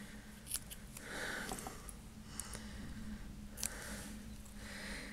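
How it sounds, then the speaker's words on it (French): Small scissors snip an Easter place-card name label, a few quick crisp cuts heard close up over a steady low hum. "Je prends des petits ciseaux, ça sera beaucoup mieux."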